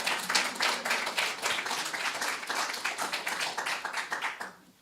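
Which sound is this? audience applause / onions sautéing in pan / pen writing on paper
audience applause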